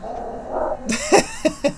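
Dog giving a few short, close yips and barks in quick succession after a soft whimper.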